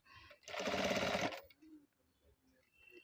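A sewing machine stitching piping onto a ready-made blouse: one rapid, loud burst of stitching lasting about a second, then near quiet with faint handling sounds.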